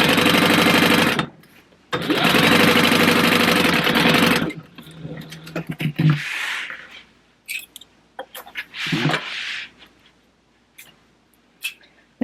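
A sewing machine stitches fabric for a Lost Boys food box in two loud, close, steady runs, followed by quieter handling noises and clicks with no talk.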